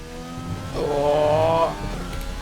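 An F1 car in F1 2020 at the Hungary GP, its engine note rising in a brief loud surge of accelerating revs mid-sector, layered over steady engine and track noise.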